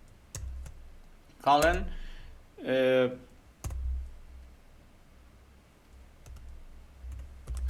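Computer keyboard typing with scattered sharp keystrokes and clicks, close and fairly quiet, broken up by a man's brief speech in between.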